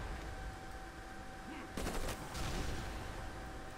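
A rapid burst of gunfire from a marine unit being shot in the strategy game Civilization: Beyond Earth, a sharp rattling volley followed by a second shorter crackle, over a steady low game soundtrack.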